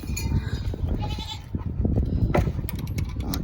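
Goats bleat in a farm pen on a cold evening, several nearby cries overlapping with rustling and clanking, loud and close, with a bell-like clink amid the commotion.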